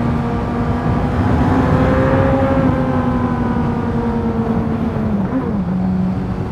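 Suzuki GSX S1000GT motorcycle engine accelerating hard, a loud, close, continuous roar whose pitch climbs and then dips briefly as the throttle shifts, with no voices.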